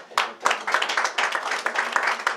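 Audience applause at the official draw ceremony of the ISF European Schools Championship of Badminton, a short burst of many hands clapping close and lively, slightly uneven in rhythm.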